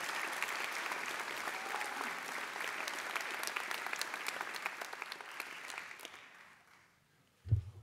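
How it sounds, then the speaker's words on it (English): An audience applauds graduates at a university graduation ceremony for nursing, midwifery and health sciences, with steady, dense clapping that fades out toward the end, followed by a brief thump. "Please give them a big round of applause."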